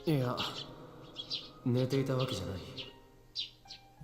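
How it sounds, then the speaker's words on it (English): Loud, close bird chirps and calls in quick bursts, mixed with a voice speaking over them. "God, these birds are fucking loud."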